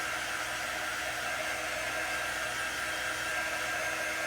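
A hair dryer blows steadily and close on chalk paste, a constant broadband whoosh with no pauses and no talking.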